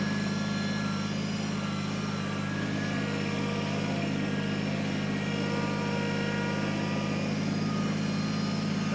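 A Kubota BX compact tractor engine running steadily in low gear while carrying extra ballast, a constant close, even drone with no change in pace and no talking.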